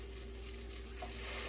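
Broth being stirred into a pan on the stove, a soft continuous sizzle with low hum beneath, no voices.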